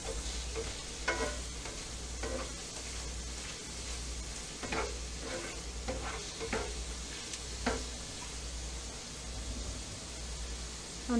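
Shrimp cooking in a cast iron pan for kung pao shrimp, with a soft continuous sizzle and intermittent scraping stirs of a utensil against the iron, fairly quiet and with no talking.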